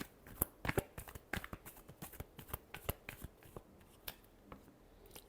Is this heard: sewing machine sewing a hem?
no